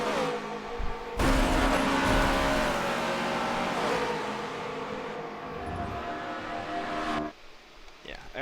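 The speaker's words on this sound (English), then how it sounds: "Wild running his Minnesota Wild's car, trying to win the championship." A race car in a championship race roars past with a loud, sustained engine drone that shifts in pitch, ending abruptly, with commentators talking over it.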